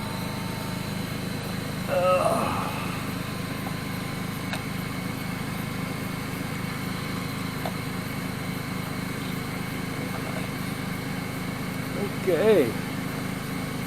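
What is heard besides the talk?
air compressor running during log splitter cleanup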